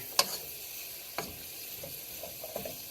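Butter browning in a pot gives a soft, steady sizzle under a few faint scraping clicks as a spoon stirs it, close and fairly quiet.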